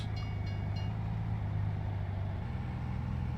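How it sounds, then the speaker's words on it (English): A train rumbles past a level crossing in Farming Simulator 19, a steady low rolling drone with a few faint higher rattles early on, heard alone without speech. "the train is just passing by"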